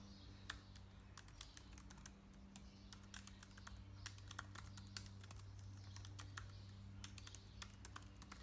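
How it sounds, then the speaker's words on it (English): Quiet, rapid clicks of keys on a computer keyboard run throughout over a faint low hum, with no one speaking. "So the first thing that I do is I type out my topics."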